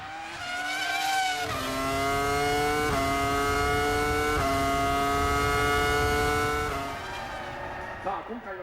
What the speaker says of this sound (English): While the Ferraris continue to control the race from the front, Olivier Panis experiences his typical 2002